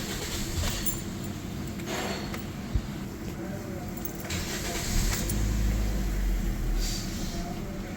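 A Toyota Corolla 1.6 Altis with a misfiring engine is cranked and starts, then dies, with engine noise rising and falling alongside clicks and a brief knock, heard up close in a workshop.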